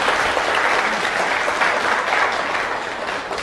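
Audience applauding at a lecture, a dense, steady wash of many hands clapping at once, close and loud throughout with no talking over it.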